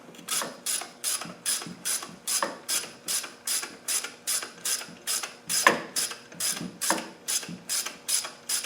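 A ratchet wrench with a 13mm socket tightening a nut on a Land Rover Defender 300 Tdi, a close, crisp, evenly paced clicking with about seventeen regular back-and-forth strokes.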